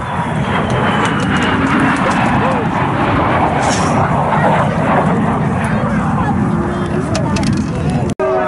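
Airplane flying at an air show, a loud continuous engine roar with a steady droning hum over crowd murmur and an announcer talking, ending with a sharp click.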